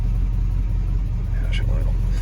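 A 1968 Ford F100 engine idles with a deep, steady low rumble through Glasspacks exhaust, loud and continuous, while a voice speaks briefly over it.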